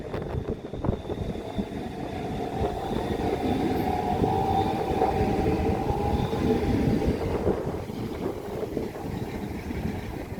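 A Southeastern Class 395 high-speed train passes through Ashford International station, a continuous loud rumble of wheels and motors with rattling rail noise and faint squeal, close by and sustained throughout, with no talking.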